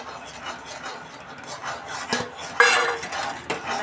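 Roasted peanut powder being stirred into hot sugar syrup in a pan, with gritty scraping and rubbing from the spoon and a few sharper clanks against the pan, close and continuous.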